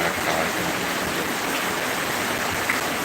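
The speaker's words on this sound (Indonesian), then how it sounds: "hati-hati terhadap hujan cuaca ekstrim yang melanda kawasan tersebut" Heavy rain pours steadily over Aceh Jaya, a dense, even wash of falling water close by, continuous and alone without voices.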